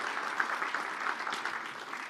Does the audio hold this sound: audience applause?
yes